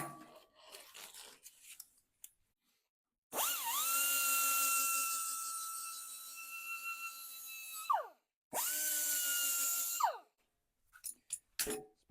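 Power tool cleaning a bare spot on cast iron for a welding ground clamp, heard as two close, loud high-pitched whines of about five and two seconds, each winding down in pitch at the end, with scraping and handling noises around them.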